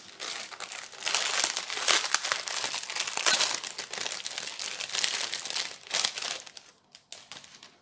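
Continuous crinkling and tearing of plastic packaging as its edge is cut and pulled open, close and steady for most of the stretch before thinning into a few scattered crackles.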